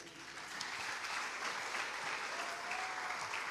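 A church congregation applauds together in a steady, fairly distant wash of clapping that holds evenly for a few seconds, with no voice above it.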